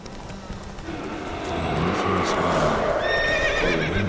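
Roach the horse in The Witcher 3 gives a loud whinny over steady galloping hoofbeats that build and carry through the clip, with a faint voice in the background.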